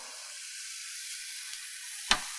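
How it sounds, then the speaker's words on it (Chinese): Taiwanese meatball sauce with five-spice, sugar, salt and sesame oil stir-frying in a pan, a soft, steady sizzle close by, with a single sharp utensil knock near the end. "我们把它炒均匀之后，等一下我们就要来勾芡哈"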